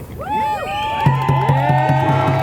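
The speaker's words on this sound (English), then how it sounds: "Round of applause for all our essential workers out here today and around the country, please" A crowd at an immigrant rights rally in Washington, D.C. cheers for essential workers, with rising whoops and shouts over a pulsing, rhythmic beat of noisemakers or stamping, loud and lively throughout.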